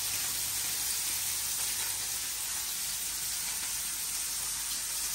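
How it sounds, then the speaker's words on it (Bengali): Fish fries in oil, giving a steady, dense hiss of sizzling that stays even and unbroken throughout, fairly quiet and with no voices. "আগে এই মাছটাকে তেল দা ভাজা নিতেছি।"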